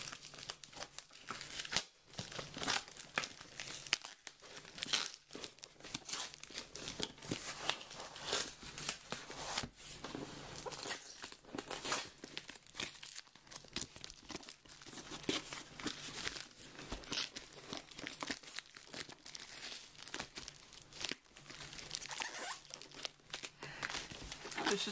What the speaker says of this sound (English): You can look at those whilst I take the tape off this box.